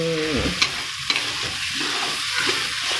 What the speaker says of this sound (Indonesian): sekarang kita tumis hingga harum